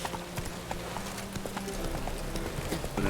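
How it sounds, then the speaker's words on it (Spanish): In The Witcher 3, the horse Roach gallops with a steady, rapid clip-clop of hooves, heard in the foreground alongside game sounds and a man's speech. "Venga el caballo."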